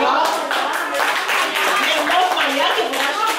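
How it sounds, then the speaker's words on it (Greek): An audience claps at a book presentation for Katerina Papapostolou's "The Great Return", a brisk, fairly loud patter of many hands sustained throughout, with voices mixed in. "Χειροκροτώ, παρακαλώ."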